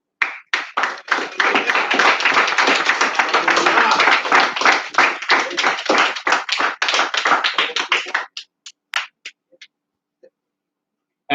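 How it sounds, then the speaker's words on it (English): An audience claps together at a gathering. The applause is loud and close, holds steady for about eight seconds, then thins to a few scattered final claps before it stops. "Let's clap for them."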